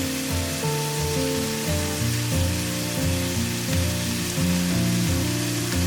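A steady, continuous sizzle of boiled egg noodles frying with oil and sweet soy sauce in a hot wok, loud and close, with soft background music playing underneath.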